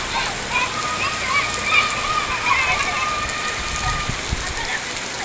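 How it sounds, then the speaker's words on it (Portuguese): Rain pours steadily in Carnaúba in Brazil's Northeast, a loud constant broadband rush with faint higher chirps threaded through it. "Carnaúba continua chovendo"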